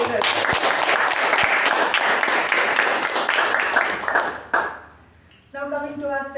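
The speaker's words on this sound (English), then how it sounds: "a big round of applause for all the TAPG role takers" A Toastmasters meeting audience gives a big round of applause for the role takers, with loud, dense clapping that runs steadily for several seconds, then fades away before a voice begins speaking.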